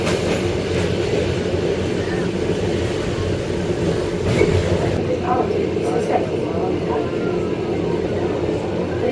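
A train on the Flåm mountain railway in Norway rumbles and rattles along at a steady pace, a continuous loud mechanical drone with a faint voice beneath it.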